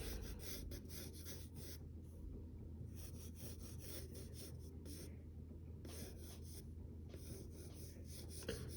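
Pencil drawing on paper, soft scratchy strokes close by in repeated bursts with brief pauses between them, quiet and alone.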